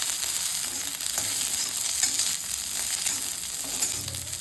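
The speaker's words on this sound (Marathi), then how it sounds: "तर हे ना आपल्याला सगळं परतून घ्यायचं आहे तेलामध्ये." Onion, grated coconut and peanuts fry in oil with a steady close sizzle and crackle, while a spoon stirs and scrapes through them at intervals; no voices.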